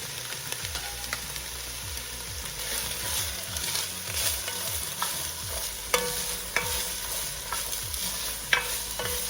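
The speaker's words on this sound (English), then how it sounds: "we're gonna add the vegetables into this preheated Dutch oven, and we're just gonna cook them. We're gonna saute them" Vegetables sautéing in a preheated Dutch oven for spicy lentil soup give a steady close sizzle, with repeated scraping strokes and a few sharper clinks of a utensil against the pot, and nobody talks.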